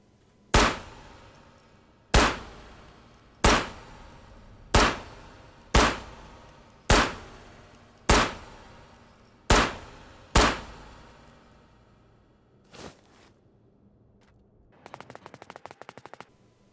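Nine sharp Tokarev TT-33 pistol shots in the video game Ghosts of Tabor ring out at a steady, roughly one-per-second pace, each with a short ringing tail, followed by a faint clack and a brief mechanical rattle.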